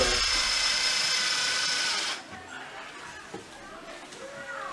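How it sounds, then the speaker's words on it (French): A screw driven into oak with a ratcheting driver to mark a spot while setting up a beehive at a school, loud and continuous for about two seconds, then fading into quieter handling noises with voices nearby. "C'est juste que je visse ça pour faire une marque"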